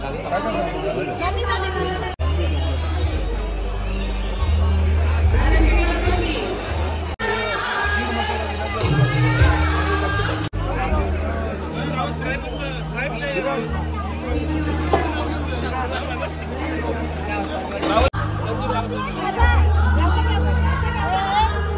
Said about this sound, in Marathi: फुल गर्दी आहे एकदम. एन्जॉय करताना पब्लिक.